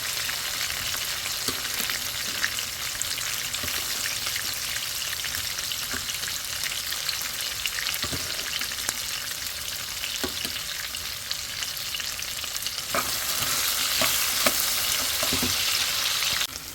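Dried fish (shutki) frying lightly in a pan makes a continuous crackling sizzle with scattered pops and scrapes of stirring, moderately close, with no talking.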